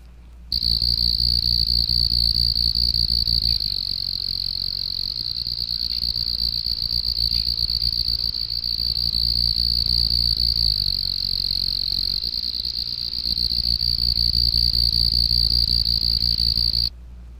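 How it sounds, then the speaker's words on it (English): Carolina ground cricket (Nemobius carolinus) of damp ground gives a rapid, pulsating high trill, steady and continuous from start to finish at moderate loudness, with no other sounds. "It has a very rapid, pulsating trill, and like all the ground crickets, sings both day and night."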